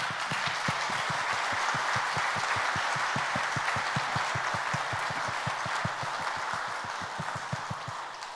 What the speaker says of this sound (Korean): 이어서 한번 사랑의 박수 하겠습니다